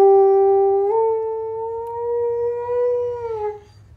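A dog howls on cue indoors, a single long sustained wail that bends slightly upward and then tapers off, loud and close, with no talking over it.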